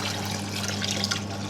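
Pork stock pouring into a cooking pot for sotanghon, a steady close liquid stream with a constant low hum underneath.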